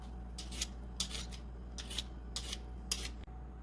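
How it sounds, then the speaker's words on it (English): A peeler scraping the skin off a vegetable, five or six quick rasping strokes at an even rhythm, close and fairly quiet over a low steady hum, with no talking. "run the peeler through it, and it's all clean"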